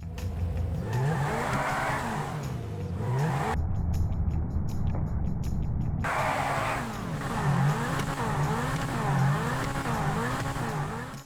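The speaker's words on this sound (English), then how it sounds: "The Zentorno's quad exit exhaust upgrade has a non-functional exhaust pipe." The Zentorno supercar in GTA 5, fitted with a quad exit exhaust upgrade, revs and accelerates with rising and falling engine tones and occasional tire squeal, steady and close throughout.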